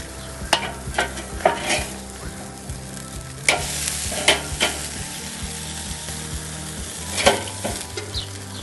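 Two steaks and a hamburger sizzle steadily on a smoky grill, a continuous crackling hiss broken by sharp clicks and scrapes of a utensil moving the meat, close and moderately loud with no talking.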